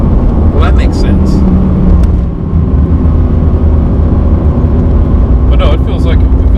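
A 550hp Mercedes AMG GT C Roadster drives along with a loud, steady engine drone and road roar heard from inside the open cabin, with people talking over it.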